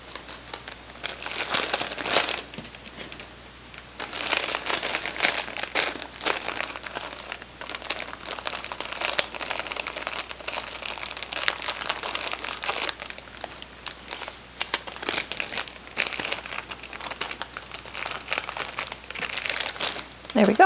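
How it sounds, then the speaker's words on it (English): Plastic candy bag around a chocolate-covered peanut butter egg, folded down and sealed with a sticker label, crinkling and crunching steadily at close range, with soft talk underneath at times. "so I fold them down and close it with a little sticker that says what's inside of the bag"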